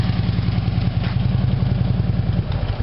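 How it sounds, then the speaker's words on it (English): A Harley-Davidson motorcycle idles with a steady, loping low-pitched engine pulse and mechanical clatter, close and continuous throughout, with no talking. "Go over here and shut down the bike."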